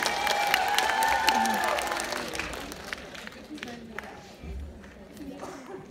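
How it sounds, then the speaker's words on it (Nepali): Applause and clapping from an audience at a nail art class, loud at first and then thinning out, with voices and some shuffling underneath. "अब जोडदार ताली बजाइदियो एकचोटि"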